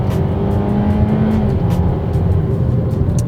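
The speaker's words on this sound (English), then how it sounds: "Front-wheel drive S Seltos versus Kia Soul GT Turbo drag race" A front-wheel-drive Kia Seltos accelerates hard in a drag race against a Kia Soul GT Turbo, its engine holding a loud, steady, rising drone with tire and road noise, close to the microphone.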